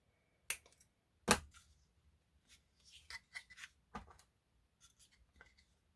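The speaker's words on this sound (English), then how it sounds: "All right, then I'm going to trim that off." Scissors trim material on a miniature fall-themed house kit, giving a few sharp close snips and then softer scattered cutting and rustling sounds in a quiet room.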